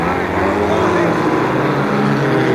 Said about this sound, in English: With a roar of exhaust and a screech of tires, Jazz shot across the line.